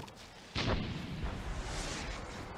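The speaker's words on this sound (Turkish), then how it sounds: "Yine havan geliyor." A sudden heavy boom of a mortar strike in Far Cry 4 hits, then a low rumbling aftermath lingers at steady loudness.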